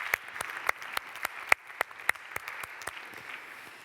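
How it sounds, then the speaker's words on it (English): A modest audience gives a scattered round of applause at a climate and business conference, with sparse individual claps popping out over a soft, steady patter for a few seconds. "Can we give an applause, please, to this?"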